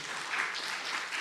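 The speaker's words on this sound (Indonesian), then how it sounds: "Tepuk tangan buat kemuliaan nama Tuhan" Brief burst of applause from a church congregation at an evangelistic service in New York, a dense even patter of clapping holding steady for about a second with no voices over it.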